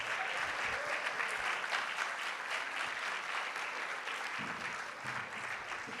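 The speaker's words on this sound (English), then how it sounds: "Oh, you are clapping for Max." An audience at a medical leadership symposium in Ghana claps continuously, a dense, even wash of applause heard from within the hall, with a faint voice briefly audible beneath it.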